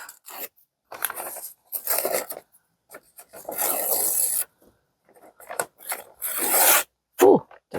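Strips of paper being torn off by hand for an upcycled glass candle holder, a sequence of close, crisp ripping bursts of varying length separated by short silences.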